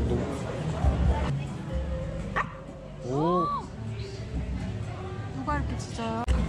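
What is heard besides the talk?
dog barking and yipping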